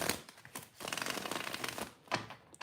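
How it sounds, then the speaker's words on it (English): Tarot cards shuffled by hand in quick riffling bursts, crisp papery flutters with a brief pause and a final snap, close and fairly quiet with no voices. "Let's shuffle the cards"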